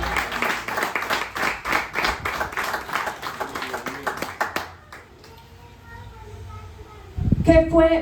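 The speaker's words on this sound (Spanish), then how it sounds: "Démosle un fuerte aplauso al Señor." A church congregation claps together for about five seconds in a dense, busy patter, then the clapping stops and the room goes quiet before a louder sound cuts in at the end.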